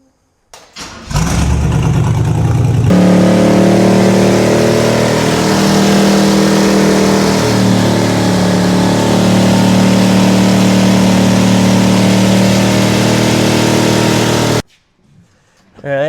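A rat rod fitted with a Cadillac engine cranks and catches, then runs loud and close with a steady rumble and revving swells for over ten seconds before cutting off abruptly.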